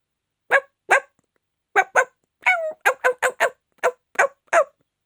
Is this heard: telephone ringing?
no